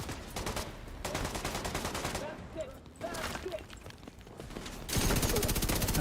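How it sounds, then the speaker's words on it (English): Rapid gunfire and grenade blasts from a video game, dense and continuous, with a louder burst near the end and a voice speaking over the shooting. "It takes so long for the grenades to explode."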